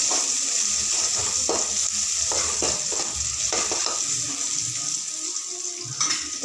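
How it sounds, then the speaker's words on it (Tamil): Onions with salt frying in hot oil in a pan, a steady close sizzle with occasional stirring scrapes and clinks, no talking. "எண்ணெயை ஊற்றி வெங்காயத்தை போட்டிருக்கேன்"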